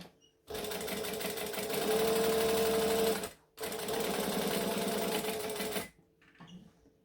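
Sewing machine stitching fabric in two continuous fast runs separated by a brief pause, a close, even mechanical whir that stops cleanly each time, with light handling sounds after.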